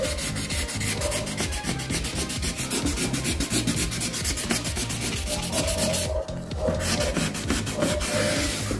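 Folded sandpaper rubbed by hand over primer, a loud, steady back-and-forth scratching stroke repeated rapidly and evenly throughout, heard close up with one brief pause in the middle and no voices.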